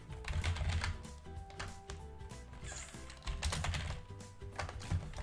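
Steady, fast typing of player names on a computer keyboard, dense clicking keystrokes throughout, close and clear with no talk.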